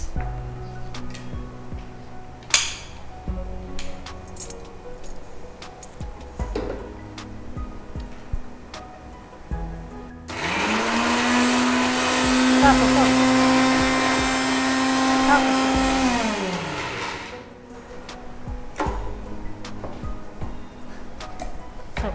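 A kitchen mixer grinder coarsely grinds raw ingredients for a mango curry, revving up to a loud steady whine for several seconds and winding down, surrounded by clinks and handling sounds.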